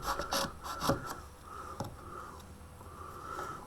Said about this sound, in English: See, I'm turning the chisel to either side.